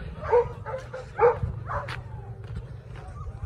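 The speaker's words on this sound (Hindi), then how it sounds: "ये कुत्ते जो है ना जी शिकार करके आ चुके हैं" Village hunting dogs back from a hunt bark and yip in short bursts, a few close and loud calls over a rough outdoor background, with some low voice or movement noise beneath.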